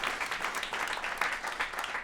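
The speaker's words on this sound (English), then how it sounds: "let's give him a round of applause" Steady applause from a crowd, a dense patter of clapping that holds at an even level throughout.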